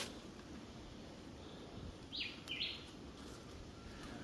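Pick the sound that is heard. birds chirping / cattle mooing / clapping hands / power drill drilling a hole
birds chirping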